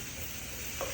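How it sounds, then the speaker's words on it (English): Food sizzles steadily while being stir fried quickly in a pan, a brief, even hiss with a slight flare near the end. "So you can see I'm stir frying this up pretty quickly."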